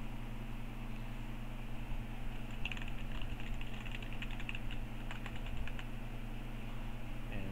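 A command typed on a computer keyboard in a Linux terminal: a short burst of quick, light key clicks over a steady machine hum, close and without talk.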